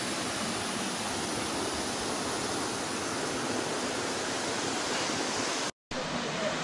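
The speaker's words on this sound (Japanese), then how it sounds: "不動の滝来ましたね。" Fudo waterfall in Takamatsu, Kagawa, a 40 m drop: a steady, dense hiss and rumble of falling water heard close by, continuous and unchanging, with a brief cut near the end.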